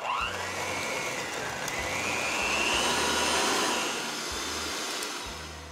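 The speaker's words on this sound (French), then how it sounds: "À la mixette ou avec une spatule et un bras qui tourne vraiment vite, on va venir combiner le beurre et les sucres." An electric hand mixer creams butter and sugars for caramel chocolate cookies, a steady whirring drone that holds at a constant level for several seconds with no talking.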